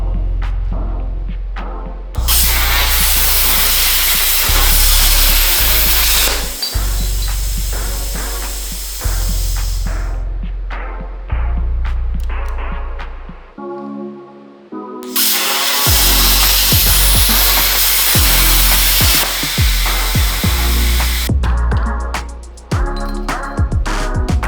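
A homemade CNC tube notcher with a plasma cutter slices through a metal tube, giving loud, harsh hissing bursts that start and stop abruptly, with crackling and brief pauses between cutting passes and no talking.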